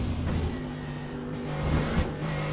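Race car engine in iRacing accelerating hard out of turn 5, a steady loud motor drone with a rising pitch as power goes down, close and unbroken over a couple of seconds.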